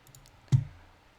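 A single sharp computer mouse click, crisp and close, standing alone after a few faint taps in a quiet room.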